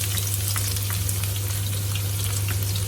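Steady, dense sizzling of garlic frying in hot oil, close and continuous with no talking, under a constant low hum.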